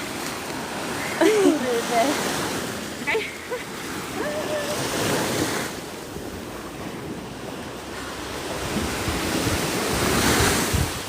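Sea waves wash and break at Orłowo pier in Gdynia on the Baltic, a steady surf roar with wind buffeting the microphone throughout, while several people talk and laugh nearby.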